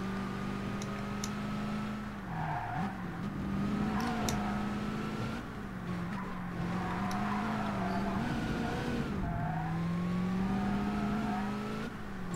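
A race car engine drones continuously in DTM Race Driver 2 while the car drifts, its pitch dipping and rising as the revs change, with faint tire noise and the odd click over the steady engine.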